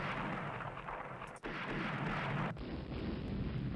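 Warship guns firing in the naval strategy game Rule the Waves, heavy booming rumbles rolling continuously with two sharp breaks in the barrage, no speech over it.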